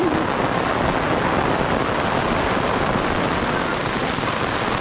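Heavy rain pours down continuously, a loud dense broadband hiss of water hitting surfaces close by, steady throughout with no voices.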